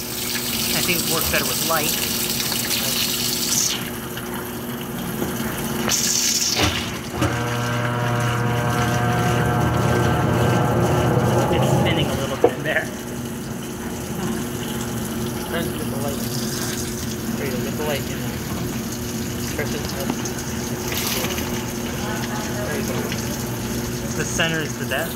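A Speed Queen laundromat washer on a handwash cycle runs steadily with a loud, even hum and pumping water, sounding strong for several seconds in the middle and continuing under close talk from people nearby.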